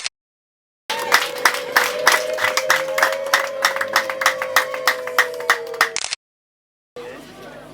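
Guests at a wedding clap in a rapid, steady rhythm for about five seconds over a sustained singing voice, then it cuts off abruptly and a faint crowd murmur follows.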